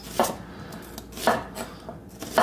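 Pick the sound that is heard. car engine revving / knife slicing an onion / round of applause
knife slicing an onion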